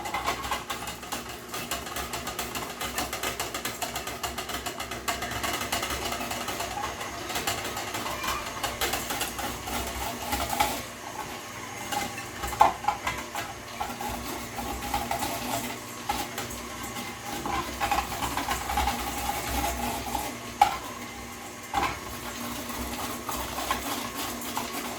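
An electric slicer cuts garden jalapeños for cowboy candy, making a continuous mechanical whir and rattle for about twenty-five seconds, with irregular clicks and clatter as the slices drop.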